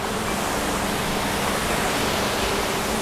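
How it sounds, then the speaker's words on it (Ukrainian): Steady, dense rushing of a waterfall in the Carpathian mountain forest, a broad continuous roar that stays constant throughout with no voices. "Бачите, он водоспад. Супер класно його чути"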